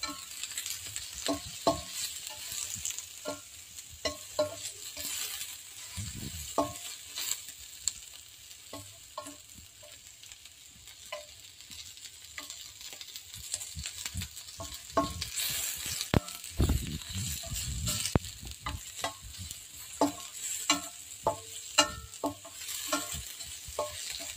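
A small amount of oil sizzles steadily in a frying pan while a utensil scrapes and stirs, with ampalaya cooking in a simple Filipino dish. Irregular clacks and scrapes sit over a constant soft frying hiss, with no talk.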